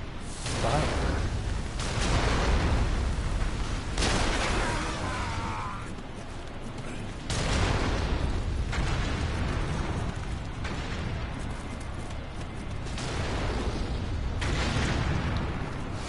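Cannon fire and explosions in the Nioh video game roar in long, dense, loud bursts one after another, a continuous rumbling barrage with a voice talking under it at times.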